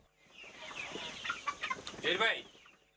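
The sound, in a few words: BAU chicken breed clucking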